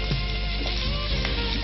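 Water poured into frying spices for a Bangladeshi-style prawn curry with capsicum, giving a steady, loud sizzle with no talk.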